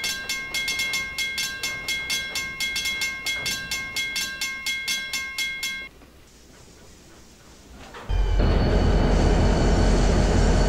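Carrabassett Valley Railroad train coasting and slowing, with steady rhythmic clicking wheels and bell-like ringing, then a quiet lull before a loud, continuous rumble close by.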